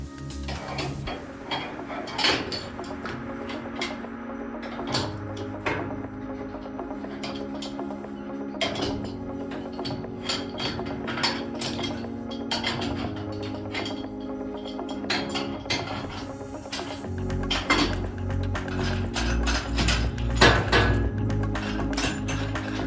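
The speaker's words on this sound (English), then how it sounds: "now we can open the top of the pressure vessels" Lid on top of a DieselPure fuel filter pressure vessel being opened: a long run of metallic clanks, clicks and ratcheting taps, irregular and close, with a steady low hum underneath.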